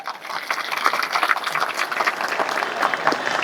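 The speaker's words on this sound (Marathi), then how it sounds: "मला आवाज नाही आला तुमच्या टाळ्यांचा" An audience claps in a dense burst of applause at a Ram Navami maha-aarti and satsang gathering, a loud, close and continuous patter of many hands lasting a few seconds.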